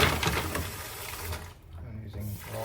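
Hot water runs from a tap into a container holding dish soap and vacuum brushes for soaking, a steady rushing gush whose pitch shifts as it fills, with a brief dip midway.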